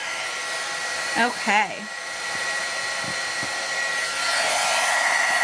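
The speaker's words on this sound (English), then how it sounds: "as I allow my heat gun to heat up, bear with me and try to ignore the noise" An electric heat gun warming up for heat embossing on a papercraft stamping project, a steady loud airy blowing roar that runs throughout, briefly under a short spoken word.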